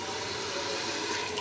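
Water is poured into a pan holding whole garam masala spices, a steady loud rush of liquid, close by with no pause.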